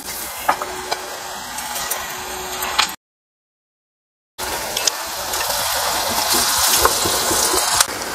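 Triangle-shaped cut snack pieces for Diwali dropped into hot oil, giving a loud, steady hiss and crackle of frying with some stirring clatter, briefly cut to silence before the sizzling resumes.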